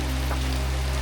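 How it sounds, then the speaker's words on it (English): Heavy rain pours steadily on a jungle trek in Chiang Mai, Thailand, in the rainy season, a constant dense hiss with a low steady hum beneath and no voices. "The rain kept pouring non-stop."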